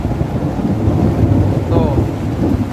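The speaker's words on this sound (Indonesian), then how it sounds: "Ya Allah, ada petir." Low rumbling thunder rolls steadily beneath heavy rain and wind during a storm on Cirimpak hill, heard from indoors; a faint whistling tone rises briefly near the end.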